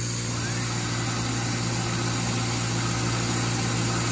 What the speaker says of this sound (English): the red one. The red sander.